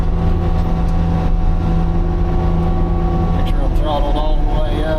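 A mower engine runs at full throttle, cutting through saplings and tall weeds in a steady loud drone with strong low harmonics, its pitch wavering near the end as the load changes.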